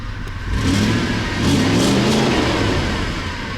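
A warmed-up Audi A8 engine with 368 on the odometer idles steadily up close, misfiring on the fifth cylinder. It runs with a rough, uneven pulse and a slight swell in revs partway through, with no talking.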